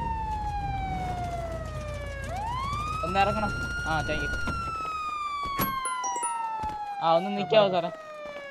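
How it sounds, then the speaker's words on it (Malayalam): A police car siren wails loudly and continuously, its pitch sweeping down and back up, while someone talks over it close by. "സാറേ വണ്ടി എടുത്ത് സൈറൺ ഒന്ന് ഓഫ് ചെയ്തേക്ക്"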